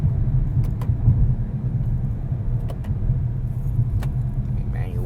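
Porsche Panamera GTS driven fast, its engine a low, steady rumble heard from inside the cabin, with a few faint clicks over the drone.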